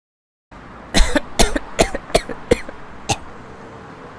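A woman coughs in a rapid burst of six or seven sharp, close coughs over steady room tone, with one more cough trailing after a short gap.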